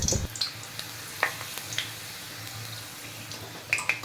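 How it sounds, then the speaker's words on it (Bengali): Soft, sparse crackles and pops of small broken pieces of papad frying in oil, with a few sharper spits scattered through a quiet background. "পাঁপড়টাকে ছোট করেই ভাজবো, তাহলে ভাজতেও সুবিধা হয়।"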